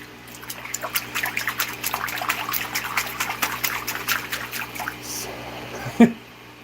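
Cold water pours and splashes into a large 510 gallon tank, a continuous rushing gush with bubbling texture that fades out toward the end, followed by a brief thump.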